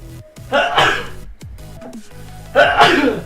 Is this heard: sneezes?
yes